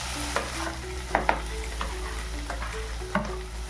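Grated sweet potato roasts in hot ghee with a soft, constant sizzle, broken by a few sharp scrapes and taps of a spoon stirring nearby.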